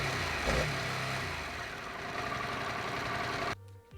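A Harley-Davidson Pan America V2 engine held against its rev limiter near 4,000 RPM, a steady buzzing drone from close by that drops off abruptly toward the end.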